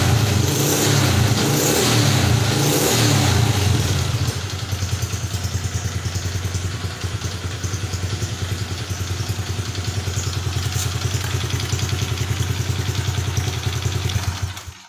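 Honda Supra underbone motorcycle engine running after an ECU repair, revving loudly up close at first, then dropping into a steady, pulsing idle that continues until it cuts off at the end.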